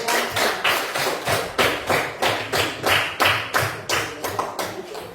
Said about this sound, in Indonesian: berikan aplaus untuk Australia